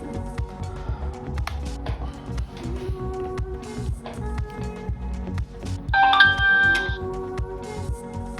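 A 70mai A500S dash cam plays a short bright electronic chime as it powers up, a rising run of tones cutting through steady background music.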